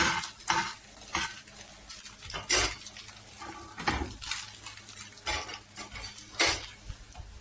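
Egg is stirred while it fries in butter in a pan, breaking it into loose crumbles: repeated close scraping and clinking of a utensil against the pan over a soft sizzle, with no talking.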